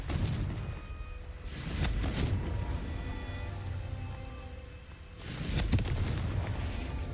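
A Confringo fire spell blasting in Hogwarts Legacy, with two booming bursts of explosive fire roughly five seconds apart over a steady, rumbling game background.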